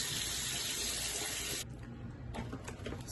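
Tap water runs steadily into a sink as someone washes their face, a loud broadband rush that cuts back abruptly midway and then continues more softly with light splashing.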